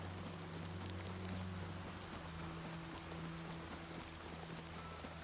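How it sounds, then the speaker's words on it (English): Soft, steady rain patters continuously at a low volume in the video game Oblivion Remastered, an even hiss of drops with no other sounds. "I like the sound of the rain in this game."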